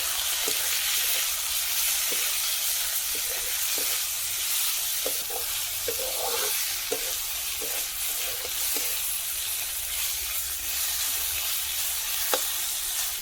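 Pork frying in a pan with turmeric and salt, a steady close sizzle running throughout with occasional sharp pops and crackles, no voices.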